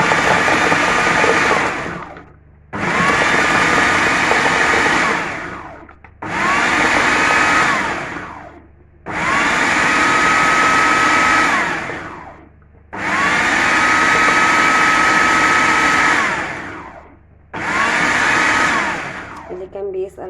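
A loud Kenwood electric blender whirs in six bursts of a few seconds each, separated by short pauses, its motor pitch steady during each run.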